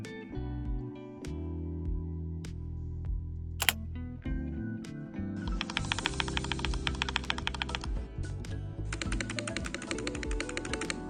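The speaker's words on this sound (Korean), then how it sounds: "텐키리스 기계식 키보드입니다" Someone types on a compact 87-key tenkeyless mechanical keyboard. Scattered single clicks give way to two dense bursts of rapid, crisp keystrokes, heard close and alone.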